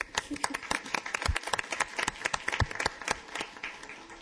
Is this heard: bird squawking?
no